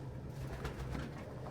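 Pigeon cooing at a nest box, a low soft throaty coo repeating faintly under a quiet indoor background, with a short louder knock at the very end.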